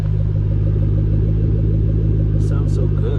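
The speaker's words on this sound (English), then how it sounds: "The exhaust note's perfect." Exhaust note of a Ford Shelby GT500 at a dealer-only auto auction, a loud, steady low rumble of the idling engine close by, with a couple of brief higher chirps near the end.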